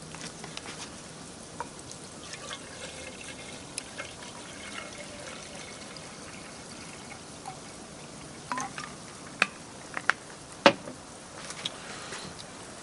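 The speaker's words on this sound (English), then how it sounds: "Pour my water in, my 2 cups worth." Water, two cups' worth, is poured into the cup of a 2018-model Jetboil Flash stove: a steady soft trickling, splashing stream with a few louder drips and clinks near the end.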